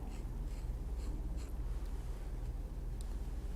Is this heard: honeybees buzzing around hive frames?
no